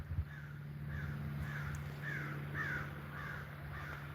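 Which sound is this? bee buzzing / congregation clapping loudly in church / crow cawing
crow cawing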